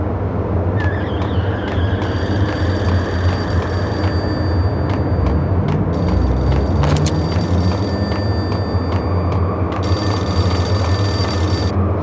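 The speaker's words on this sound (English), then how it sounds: "Payphone started to ring." An old-fashioned bell-type payphone rings in the game Max Payne, with repeated bursts of ringing separated by short gaps over a steady low background rumble.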